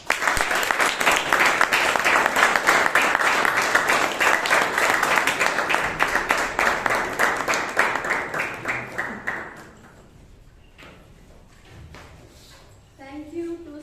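Loud audience clapping at a Toastmasters meeting, a dense burst of many hands with individual claps standing out, tapering off after about ten seconds into quieter room sound before a voice starts speaking.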